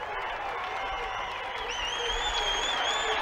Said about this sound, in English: Just take a listen to that crowd.